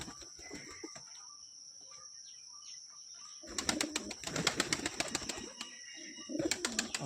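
Lotan pigeons in a breeding room, coos and chirps rising with bursts of wing flapping, close and busy in the second half after a quieter opening.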